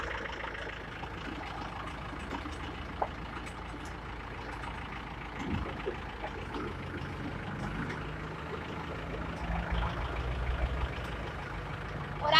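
A heavy tow truck engine idles and rumbles steadily nearby while a vehicle is towed at a highway accident scene, with occasional clanks and a brief hiss like an air brake.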